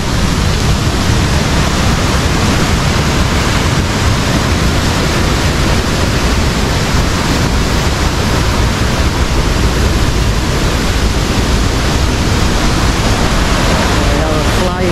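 A small waterfall beside fish ponds at Jembong, Bali, gives a steady, dense rushing of falling water, constant and fairly loud throughout with no break.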